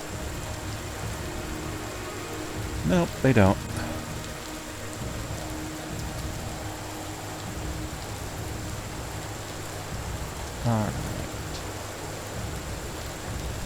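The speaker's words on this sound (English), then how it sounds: "Still this rain. Nice and cool." Steady rain falls in the survival game Empyrion Galactic Survival, a constant hiss throughout. Brief talk breaks in twice over it.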